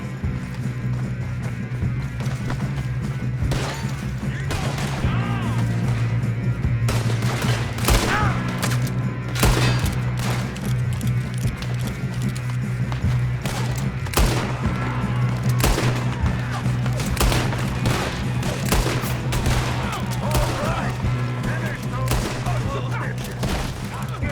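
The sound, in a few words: gunfire in Red Dead Redemption 2 video game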